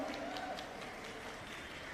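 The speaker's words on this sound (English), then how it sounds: "I thought I'll have a round of applause for that." An audience at a TVS motorcycle launch claps in a steady, moderate wash of applause that holds for a couple of seconds at mid distance.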